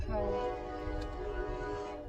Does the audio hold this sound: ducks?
no